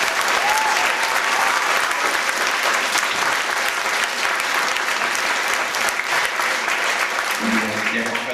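Sustained audience applause at an evening stage show in 2005, a dense, steady wash of clapping from a large crowd filling the whole stretch at even loudness, with no break in the noise.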